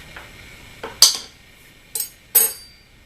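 Several sharp scraping and clinking strokes as leftover sourdough dough is scraped off a bowl, four distinct close hits spaced unevenly, with no talk.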